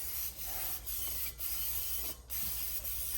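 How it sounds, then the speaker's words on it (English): Brake parts cleaner sprayed onto a rear brake drum during a brake inspection and service, a steady close hiss broken by several brief pauses between bursts. "you can take the brake parts cleaner and spray the drum if you like."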